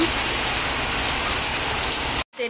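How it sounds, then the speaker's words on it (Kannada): Heavy rain falls outdoors, heard from a covered porch, a dense, steady hiss of drops on surfaces that continues evenly until it cuts off abruptly near the end. "ಎಷ್ಟರ ಮಳೆ ಆಗತೈತಿ ಅಂಥೇಳಿ ಅನ್ಸತೈತಿ"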